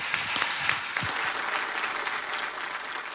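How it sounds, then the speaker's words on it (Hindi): Steady studio audience applause on a televised quiz game show, dense continuous clapping throughout with a few louder individual claps near the start. "एक बार फिर तालियों के साथ इनका अभिनंदन करते हैं।"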